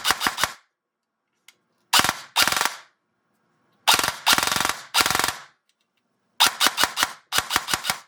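An upgraded airsoft gearbox with newly installed spiral gears is test fired on full auto and under no load. Loud, close bursts of rapid mechanical clatter come in several short strings separated by silence, with no talk.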